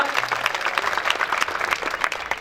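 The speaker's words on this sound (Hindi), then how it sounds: "जोरदार तालियां बजा दीजिए भैया।" Crowd applause at a large Gurjar community program in Ujjain, a thick, continuous patter of many hands clapping at fairly even loudness, with no voices over it.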